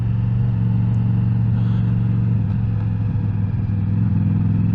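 Ducati V4 Diavel motorcycle with an Akrapovic exhaust, a loud, steady engine roar with a deep low drone held throughout, rising slightly in rough texture midway, recorded close while riding.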